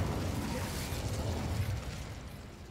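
The Incendio fire spell in Hogwarts Legacy gives off a steady, fairly quiet whooshing roar of flame that fades slightly toward the end, with no speech over it.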